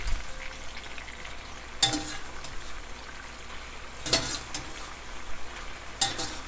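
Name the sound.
pasta finishing cooking in the pan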